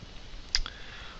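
A single sharp computer mouse click, close and brief, over quiet room tone during an Adobe Premiere Pro tutorial.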